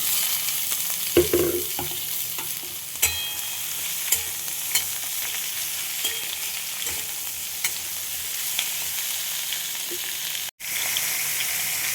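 Ridge gourd and onions fry with green chillies in a pan, a steady close sizzle broken by a few sharp clinks of stirring utensils.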